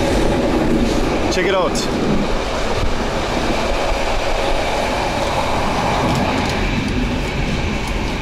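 Crowded passenger train running from Sofia to Varna through the Balkan Mountains, a steady loud rumble of wheels and carriage noise with a brief rising squeal early on, and a voice speaking briefly over it.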